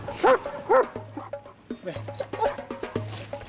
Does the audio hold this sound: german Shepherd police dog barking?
yes